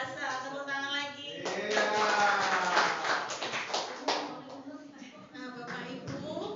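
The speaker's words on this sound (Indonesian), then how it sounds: "tepuk tangan lagi" Applause at an Indonesian job-crafting training session, a burst of clapping swelling in the middle and then thinning out, with voices and tonal sound running over it throughout.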